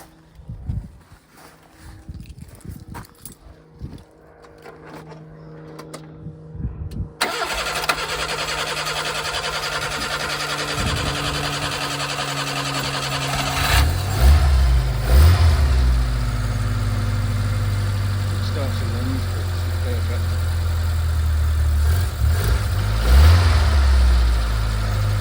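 A 1989 car engine with a poorly working automatic choke and no air filter fires up after a quiet stretch, then idles roughly and revs repeatedly, loud and close.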